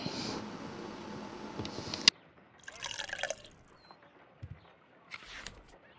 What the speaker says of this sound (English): then you pour the final beaker in, the clear agent.